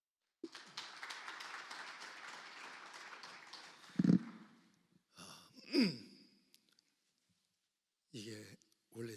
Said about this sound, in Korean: 나오실 때 박수로 맞이해 주시기 바랍니다.